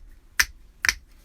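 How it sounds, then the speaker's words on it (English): Two crisp finger snaps, close and isolated, about half a second apart against near silence. "you actually hear both finger snaps"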